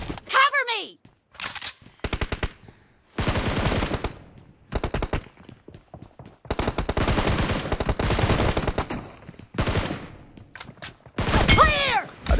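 Automatic gunfire in a multiplayer shooter match comes in repeated rapid bursts separated by brief pauses, loud and close, with some voice chatter at the start and end.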